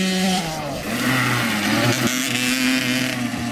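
A KTM SX65 youth motocross bike on a private dirt track, its small two-stroke engine buzzing loud and close as the rider shifts from first into second gear, pitch climbing, dropping at the shift, then climbing again.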